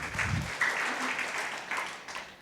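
Church congregation applauding during a worship service, a continuous wash of moderate clapping from many hands, with a faint voice briefly audible under it at the start.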